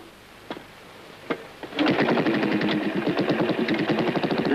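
A trials motorcycle engine gives a few sharp throttle blips, then settles into a sustained, rapid staccato putter as the rider holds and modulates the throttle, close and fairly loud.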